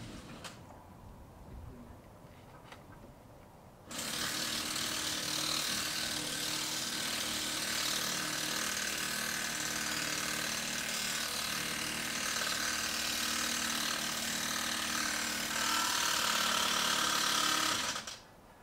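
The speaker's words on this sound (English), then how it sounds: "When fixing down the brackets, make sure you do use the 110 volt impact wrench" A 110 volt impact wrench drives raw bolts to fix down slab brackets for a base slab installation, running as one loud, steady mechanical whirr for about fourteen seconds after a quieter start, then cutting off.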